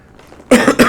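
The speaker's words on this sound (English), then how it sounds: "I got a little bit of a cough." A sick man gives a couple of sharp, close coughs, loud and abrupt after a brief quiet moment.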